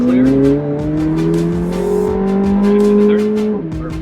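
A 2024 McLaren 750S supercar accelerates hard on a race track, its engine note climbing steadily through the revs, loud and close from inside the car, with a drop in pitch at a gear change near the end.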